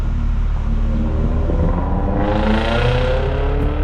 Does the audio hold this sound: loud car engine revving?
yes